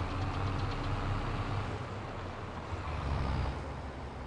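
Massey Ferguson tractor engine in Farming Simulator 22, a low, steady idling rumble with a constant mid-frequency drone, fairly quiet and unchanging, with no talk over it.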